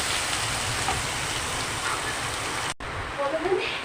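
Chopped onions fry in a pan until reddish, the start of a katla fish bhuna ghonto, giving a steady close sizzle that cuts out briefly near the end before resuming.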